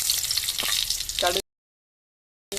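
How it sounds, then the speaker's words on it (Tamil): Mustard seeds and dried red chillies crackle and sizzle loudly in hot oil for about a second and a half, then cut to silence before the frying briefly returns. "இப்போ கடுகு அதில் போடணும் போட்டுட்டு காஞ்ச மிளகாய் போடணும்"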